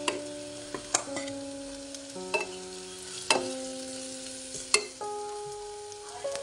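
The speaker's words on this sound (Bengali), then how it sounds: "এবার অল্প অল্প জল দিয়ে আমি সব মশলা কষিয়ে নিচ্ছি।" Chili, turmeric, spices and salt are sautéed with a little water in a pan: sharp spatula scrapes and knocks come about once a second over a soft, quiet sizzle, with no voices.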